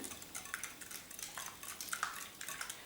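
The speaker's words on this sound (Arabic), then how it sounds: "نخلط العظم مع الجبن" Eggs being mixed with cheese in a bowl for a Tunisian cuttlefish tajine, a quiet run of quick clinks and scrapes of a utensil against the bowl, irregular and close, with no talking.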